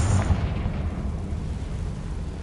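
A Confringo fire spell goes off in Hogwarts Legacy, giving a single loud, booming blast at the start whose rumble trails off over the next two seconds, with no one talking over it.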